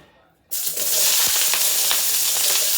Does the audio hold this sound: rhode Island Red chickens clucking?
no